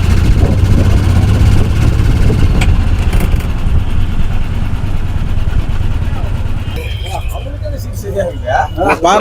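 An Atul auto rickshaw on a test drive runs with a loud, steady engine drone close by. It eases slightly toward the end while people talk over it.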